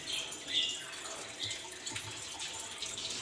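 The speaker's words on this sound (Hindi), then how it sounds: "इसलिए पानी ऊपर तक इसमें डाल दें" Tap water runs steadily into a bowl of cut potatoes in a home kitchen, filling it to cover them, with a continuous splashing flow and brief louder spurts near the start.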